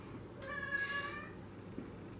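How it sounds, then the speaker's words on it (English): A pet cat gives a single drawn-out meow indoors, fairly faint and close, rising and fading over about a second against a quiet room background. "It's my cat, Darla. She's meowing."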